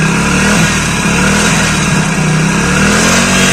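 A Hero BS6 motorcycle engine revs loudly and close at a steady pitch, held throughout with a rough, continuous mid-range drone and no talk.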